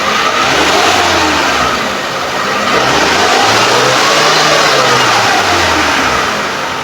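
Suzuki Carry Futura 2012 pickup engine revving up to about 4000–5000 RPM, a loud, steady mechanical roar with rising and falling pitch sweeps, close by and continuous with no talking.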